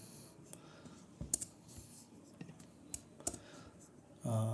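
Keystrokes from typing code on a computer keyboard during a machine learning tutorial, soft irregular clicks with a few sharper taps, close and fairly quiet, no talk.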